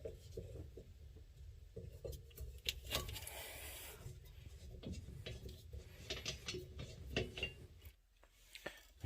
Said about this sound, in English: I'm just going to put the wrench over the neck of this thing as much as I can there and turn it